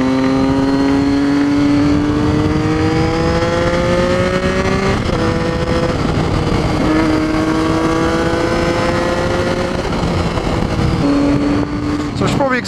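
Triumph Street Triple and Ducati 959 Panigale motorcycles revving loudly in the streets of Bath, their engines climbing in pitch through repeated rising sweeps, close and continuous.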